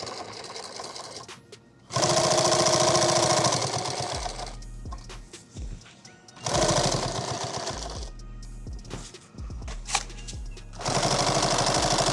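A sewing machine stitches along the seam line of an eight-magazine war bag, running in three loud, steady bursts separated by short pauses and quieter handling sounds.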